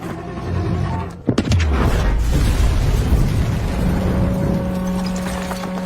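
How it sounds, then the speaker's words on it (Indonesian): Bomb detonated in a building corridor in a sniper action film, a sharp loud blast followed by a long rumbling roar and debris, with a sustained low tone ringing afterward. "Brandon meminta Diaz untuk meledakkan bom yang terdapat di lorong jalan menuju ke ruangannya."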